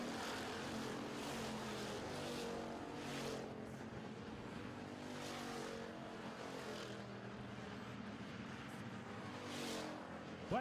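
Pure stock cars roar around an oval track during a feature race, their engines droning and swelling in repeated waves as the pack passes, steady and fairly distant with no voices.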